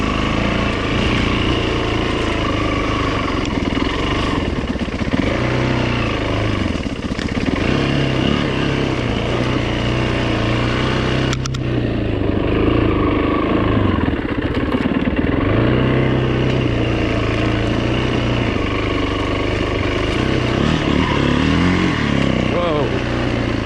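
A 2008 Yamaha WR450F dirt bike engine runs steadily under load, climbing a wooded trail with a loud, continuous drone and shifting pitch.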